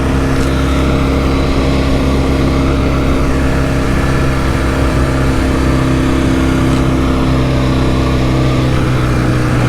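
A 1967 Norton Dominator 650 SS motorcycle being ridden, its parallel-twin engine giving a steady, loud mid-range drone with constant wind rush, holding an even pace throughout with no talk.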